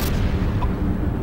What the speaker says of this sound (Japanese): 爆発が。